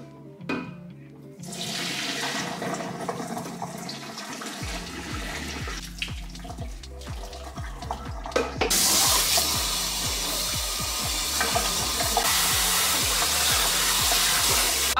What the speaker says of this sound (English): I rinsed it off as much as I could to make sure that it wasn't rinsing out dye anymore